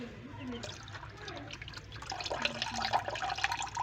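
Water is poured into a drinker for 17-day-old white chicks, giving a faint, trickling splash at close range beneath a person talking.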